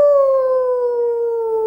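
A human voice imitates a dog howling: one loud, sustained, tonal howl that glides slowly downward in pitch for nearly two seconds, heard alone with no other sound.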